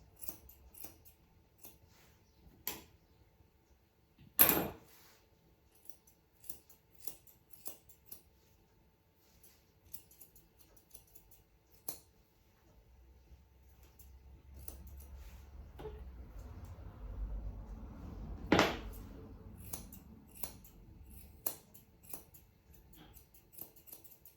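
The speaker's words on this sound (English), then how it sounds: "I'm just going to cut that straight across" Grooming scissors snip a schnauzer's hair in a quiet room, a series of sharp, close, isolated clicks spaced irregularly, with two louder snips standing out and faint rustling between them.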